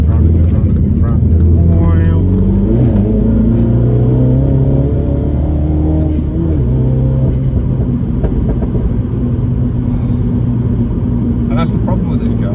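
Loud cabin rumble of a 2016 Mini JCW F56 driven hard in sport mode, with engine pitch rising and falling through revs and gear changes, while someone talks over it close to the microphone.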